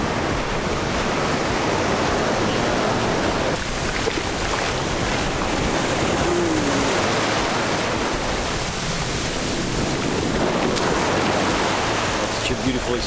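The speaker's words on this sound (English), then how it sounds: "spend a half hour swimming and enjoying beautiful waves" Ocean waves at Dahican beach, a steady broad wash of surf rolling close by without a break.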